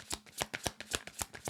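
Tarot cards are riffled and shuffled by hand in quick, uneven bursts of crisp snapping flutters, close up and fairly quiet, with no voices over them.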